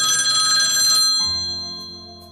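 Office telephone giving a loud, bright electronic ring that sustains for about a second, then decays into a lingering tonal hum fading toward the end.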